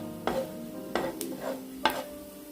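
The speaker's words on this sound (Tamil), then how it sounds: "இதில் கொஞ்சமாக எண்ணெய் ஊற்றிக்கிறேன். உளுந்து போட்டுக்கிறேன்." For a curry leaf chutney, urad dal roasts in a little oil in a pan, and a soft sizzle is broken by three or four distinct scraping stir strokes from a spoon, close and fairly quiet.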